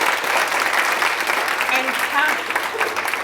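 An audience at a talk gives sustained applause to speaker Lyn Lavery, a dense even wash of clapping from a full room, with a voice speaking over it.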